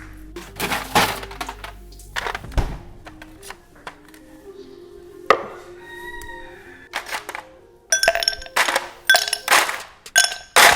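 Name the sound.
ice being scooped into a cocktail glass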